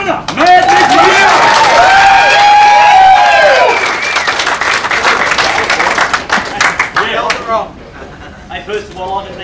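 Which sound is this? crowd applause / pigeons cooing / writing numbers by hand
crowd applause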